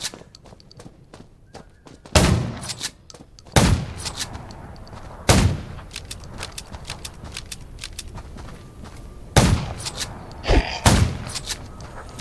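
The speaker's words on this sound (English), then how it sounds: "Gunshots will attract." Several loud gunshots in the game Undawn ring out at irregular intervals, each a sharp booming crack, over a quieter background of shuffling and faint clatter.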